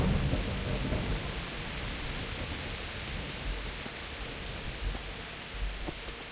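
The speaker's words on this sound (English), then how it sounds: "The rain is a little loud." Steady heavy rain and low rolling thunder in the medieval video game Kingdom Come: Deliverance form a continuous wash of noise, with soft rumbles swelling now and then underneath.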